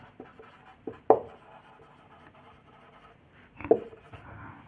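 A pen writes out a math solution by hand on paper, close and quiet, with soft scratchy strokes and a few sharper taps as marks are made, heard alone without talk.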